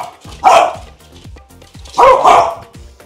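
A French bulldog at home, romping while the floor is mopped, lets out two loud, close barks about a second and a half apart, with soft yips and scuffling between them.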